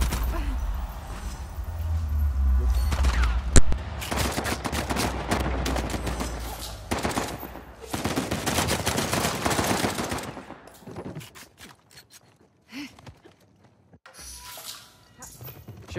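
Gunfire in the video game Uncharted 4 during an online King of the Hill multiplayer match, with bursts of rapid automatic fire and heavy volleys for about ten seconds, then quieter scattered shots.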